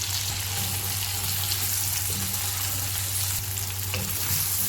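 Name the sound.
onions frying in refined oil in a pan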